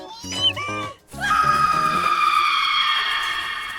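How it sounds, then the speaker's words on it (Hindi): A woman screams in a dubbed drama: a short high cry near the start, then a long, loud sustained scream with strong tonal harmonics, heard alone over faint background. "कोई चिल्लाया क्या?"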